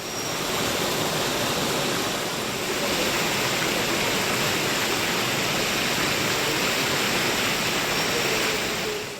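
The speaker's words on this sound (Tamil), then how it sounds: "தொடர் மழையால் திருப்பரப்பு அருவியில் வெள்ளப்பெருக்கு ஏற்பட்டுள்ளது." Thirparappu waterfall in flood after continuous heavy rain, a constant, dense, loud roar of crashing water that holds steady with no voices.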